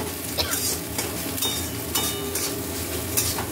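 Egg frying in a pan for homemade chicken chow mein, giving a steady close sizzle broken by several stirring scrapes at irregular intervals, with no voices.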